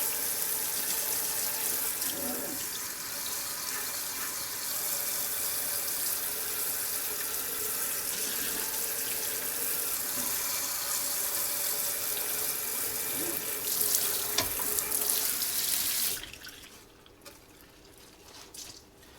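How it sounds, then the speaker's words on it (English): Steady hiss of water running from a tap and splashing in a sink as laser-engraved wood is rinsed by water pressure alone, continuous for a long stretch before cutting off near the end. "Right now I'm just using the water pressure, not even rubbing it."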